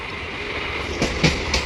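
A suburban train from Howrah rumbles steadily close by at Bally, with a few sharp clacks and squeaks from the wheels near the end.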